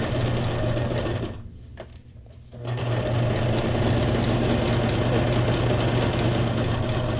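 Sewing machine stitching a belly band on a small paper file folder, a steady loud motor whir with a brief pause in the middle before it resumes and runs on continuously.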